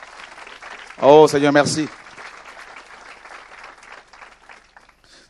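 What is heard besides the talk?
congregation applauding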